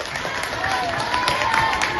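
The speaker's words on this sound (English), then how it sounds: "So let's give them another round of applause." Audience applause at an elementary school presentation, a dense, even patter of many hands clapping that holds steady throughout, with a faint voice underneath.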